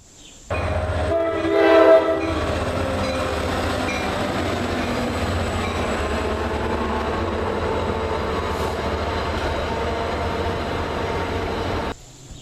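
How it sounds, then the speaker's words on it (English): A New Jersey Transit commuter train rumbles past steadily nearby, its horn sounding a short blast early on, then the rolling clatter continues until it cuts off. "Here is a 5-second clip of New Jersey Transit"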